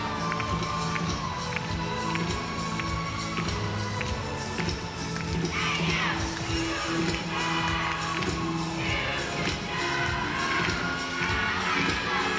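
A crowd in a gymnastics arena cheers and shouts through a routine, a broad wash of voices with claps and sharp taps scattered throughout, swelling in the second half.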